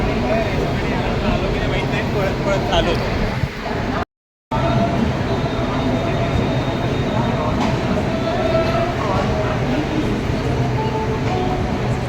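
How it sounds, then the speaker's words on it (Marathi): Steady rumbling interior of a moving passenger train on a trip to Goa, a continuous low drone and rattle filling the whole stretch with a brief dropout midway. "आम्ही ट्रेनमध्ये बसलो आहे"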